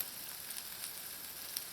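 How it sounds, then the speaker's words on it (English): Bread toasting on a wood stove at a homestead kitchen, a faint steady hiss and sizzle with a few soft crackles, quiet and close, nobody speaking. "I'm going to toast that, and then I'm going to turn the bread over and sort of toast it on both sides"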